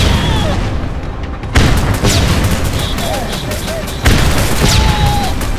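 Grenade explosions in the Rogue Trooper game: two heavy booms go off about two and a half seconds apart amid ongoing gunfire, with German voices shouting between them.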